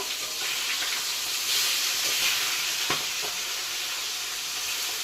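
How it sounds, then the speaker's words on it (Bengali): A rohu fish curry bubbles and sizzles in a pan, a steady close hiss with occasional pops and stirring sounds. "দুইবার ফুটলো, আইসে একবার এখানে পড়লো, ফুটতেছে রুই মাছ"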